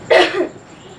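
A single sharp, close cough from a man, with a short second burst trailing off into quiet.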